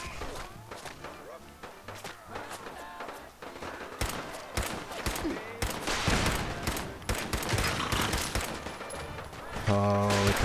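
Gunfire rattles toward the player in Fallout 4, scattered rapid shots and bursts crackling through the scene with thumps and footsteps, growing louder midway amid ongoing game noise.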